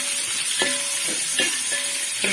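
Coconut pieces fry in hot oil for a Kerala-style beef fry, giving a steady bright sizzle with a few stirring scrapes and clinks. The sound is close and even, with no voices.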